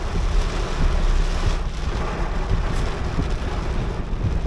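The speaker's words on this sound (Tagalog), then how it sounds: "Grabe ang lakas ng ulan." Heavy rain pours steadily on a bus on EDSA, a dense, constant roar, loud and close, with no voices.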